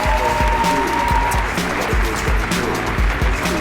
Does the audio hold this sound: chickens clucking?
no